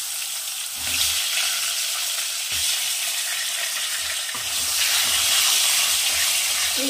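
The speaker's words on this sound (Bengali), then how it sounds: "এই তেলেই আমি আলুগুলো ভেজে নেব" Long-cut sliced potatoes frying in hot oil for a Bengali fish curry, a loud, dense, continuous sizzle that swells at moments, with soft low knocks beneath and no talking.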